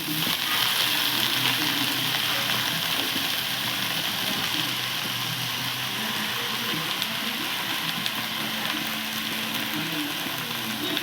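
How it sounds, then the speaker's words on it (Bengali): Jute leaves hit a hot wok and sizzle in a steady, loud, continuous hiss of frying that lasts throughout. "পাট শাকটা কড়াইয়ে দিয়ে দিল"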